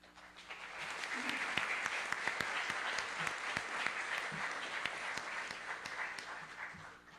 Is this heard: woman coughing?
no